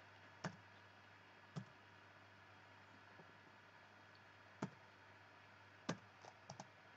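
Sparse, faint key clicks come from typing on a calculator or computer keyboard: a few isolated taps spaced a second or more apart, then a quick cluster near the end, over a quiet background hum.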